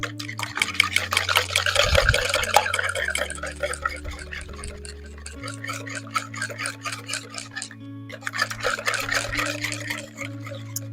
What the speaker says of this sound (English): So I'm just going to whisk those together.